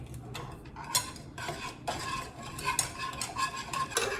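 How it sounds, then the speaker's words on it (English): A melted chocolate mixture with vanilla extract is stirred in a bowl, with a spoon scraping and clinking in quick repeated strokes, close and fairly quiet. "Just mix that in."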